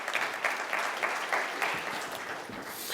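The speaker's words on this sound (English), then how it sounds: "Give her a round of applause, please." An audience at a healthcare association speech applauds, a brief burst of moderately loud clapping with individual claps distinct in a steady patter.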